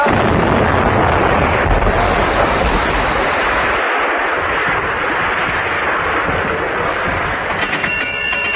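Artillery gun firing in a 1937 film, a sustained roar of blasts and rumbling that barely lets up, with a brief sharp break near the middle and a metallic ringing toward the end.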